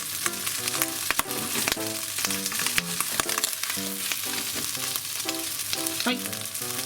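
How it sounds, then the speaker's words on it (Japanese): Bacon fries crisply in a pan for carbonara, crackling and sizzling steadily up close, with sharp pops and spatters scattered throughout and no one talking. "じゃあ結構ねベーコンいい感じにカリカリになってきて油も出始めてるので"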